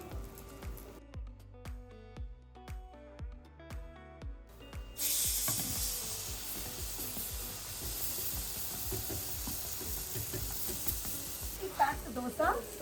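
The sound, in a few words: curry and dosa sizzling as it cooks in the pan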